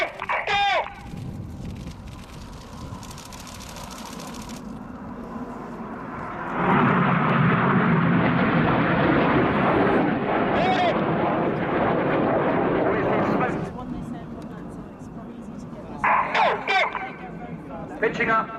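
Red Arrows BAE Hawk T1 jets fly a Royal Air Force display at RIAT 2017. A loud jet roar swells in and holds for several seconds before fading, with a commentator and crowd murmur around it.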